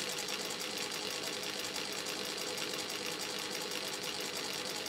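A sewing machine driven by a servo motor, set to its lowest speed of about 500, runs with a steady, even whir from start to finish.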